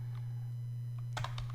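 A few computer keyboard keystrokes, one isolated tap and then a quick close burst of clicks, over a steady low electrical hum.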